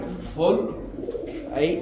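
At a pigeon market, BD King pigeons coo in soft low rounded bursts close by, mixed with voices talking in the background.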